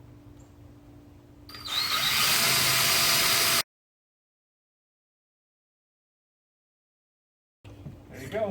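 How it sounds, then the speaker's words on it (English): A power drill bores a 5/32 pilot hole down through the middle of a cap for a homemade pinch block, whirring loudly for about two seconds after a quiet start, then cutting off to silence before handling noise resumes. "drill the pilot hole down through the middle of the cap"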